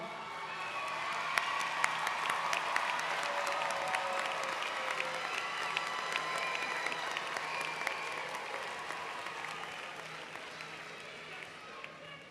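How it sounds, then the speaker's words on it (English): Sustained applause from a large commencement crowd honoring graduates' family and friends, steady and fairly distant with sharp individual claps and faint cheers over twelve seconds, voices mingling underneath. "Let's applaud them too."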